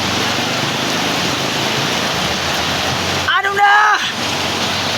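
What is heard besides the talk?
heavy monsoon rain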